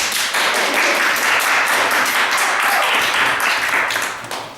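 A classroom of students clapping together, dense and steady applause that holds for several seconds before tapering off slightly at the end.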